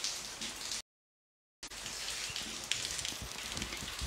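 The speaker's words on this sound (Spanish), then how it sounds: "ya pueden ver, está lloviendo" Morning rain falls steadily in The Gambia, a dense, even hiss of drops on surfaces with a few closer patters, broken by a short gap of silence.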